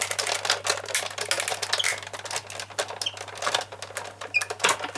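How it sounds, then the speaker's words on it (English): Die cutting machine working card and paper for a Dutch side fold card, giving a steady run of close, dense mechanical clicking and clattering that carries on without pause and with no voices over it. "we do need one bit more of die cutting"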